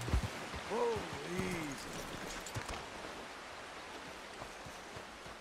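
Steady rushing water from a river and a nearby waterfall in the Red Dead Redemption 2 video game, a broad continuous wash with a few soft knocks and faint tonal sweeps early on.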